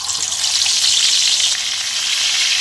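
Nile tilapia pieces, rubbed with salt and turmeric, frying in hot oil in a pan, with a steady, loud, close sizzle and crackle that holds evenly throughout and has no talk over it.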